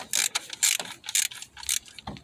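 A ratchet fitted with a 10mm socket turns an ignition coil bolt, giving quick bursts of sharp clicking close up, with no voices.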